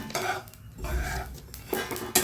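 Carom, cumin and sesame seeds are dry-roasted and mixed in a pan for mukhwas, with repeated scraping and clinking of a spoon against the metal pan in uneven close strokes.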